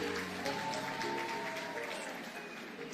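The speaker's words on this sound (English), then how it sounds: "Kindly clap for them." A crowd at a women governors' remembrance gathering gives a short round of applause, a soft, dense patter that fades slightly, with faint voices beneath it.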